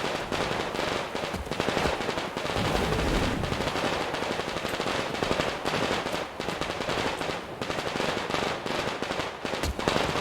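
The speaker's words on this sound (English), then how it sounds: "Who's shooting?" Gunfire from the video game Metro Exodus: dense, continuous rapid shooting with automatic bursts and sharp cracks, loud and close throughout with no pause.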